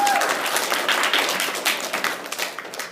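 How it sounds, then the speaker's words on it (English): An audience at a church confirmation class applauds and cheers to welcome a nervous high-school junior about to speak, with dense clapping holding steady throughout and some crowd voices mixed in. "So give her a little cheer."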